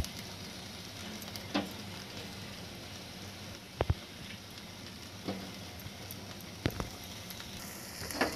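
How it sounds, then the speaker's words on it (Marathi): Dried mackerel roasting over a gas flame on a wire grill, a soft steady sizzle and hiss with a few sharp crackles and pops, quiet and close, no talk. "मी हे भाजून घेते आता गॅसवर."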